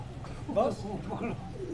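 A pigeon of a breeding pair gives a short coo, a brief low rolling call close by, over a faint background murmur.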